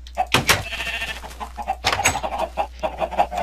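Minecraft sheep bleat in short, repeated in-game calls over a steady low background hum, with some overlapping game sounds and no talking.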